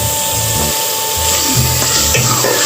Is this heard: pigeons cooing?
no